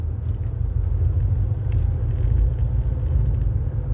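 Steady low road rumble inside a car in motion, a continuous muffled drone of engine and tyres with no voices, holding even and moderately loud throughout.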